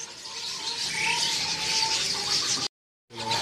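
A buffalo starling (jalak kebo) chirps at a bird market stall, short clear whistled notes repeating over a dense backdrop of other birds twittering, with a brief dropout near the end.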